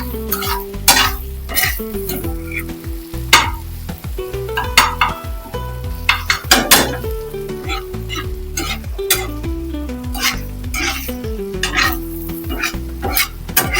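Spices such as turmeric and dried coriander stirred together in a pan while cooking eggs for anda shami, with repeated spoon scrapes, clinks and a sizzling background, fairly close and steady with no talking.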